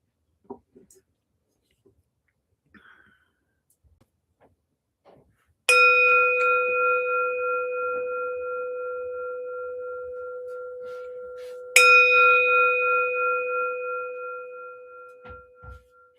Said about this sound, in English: Let me start with a bell.